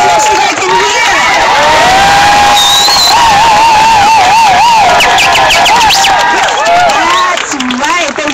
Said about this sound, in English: why don't you cheer loud enough so they can hear?